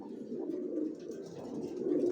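Racing pigeons, young birds with leg tags, cooing steadily in a loft, soft overlapping low coos continuing throughout at close range with no talk.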